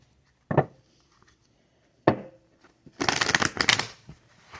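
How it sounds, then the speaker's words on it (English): Oracle cards being shuffled by hand: two short separate riffles, then a longer burst of rapid papery flutters, close and crisp against a quiet room. "Let's do one more shuffle."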